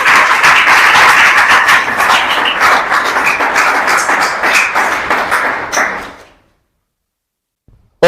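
Congregation at a Sunday church service applauding for the Lord, a dense burst of many hands clapping that holds strong for about six seconds, then fades quickly into silence before a single faint tap.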